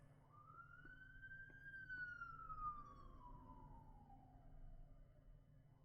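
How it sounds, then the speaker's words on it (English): An ambulance siren passes along a residential street, a single long wailing tone rising then slowly falling as it moves away, faint and distant over low background hum. "I actually heard an ambulance riding by my street."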